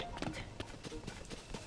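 Horse hooves clip-clop at a run in the Zelda: Tears of the Kingdom video game. The hoofbeats are quick and steady under a dense, noisy game mix with talking.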